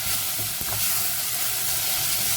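Courgette sweating in a hot pan, giving a steady close sizzle and frying crackle that runs unbroken with no talking.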